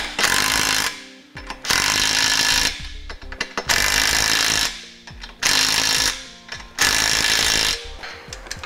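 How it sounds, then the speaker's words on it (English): A power tool drives the U-bolt fasteners on a Draw-Tite Max-Frame trailer hitch receiver in five loud, sustained bursts of rapid hammering, close to the microphone, separated by short gaps of ratcheting and handling noise, with no speech. "as we tighten down our U-bolt fasteners, we want to make sure we tighten down both sides evenly."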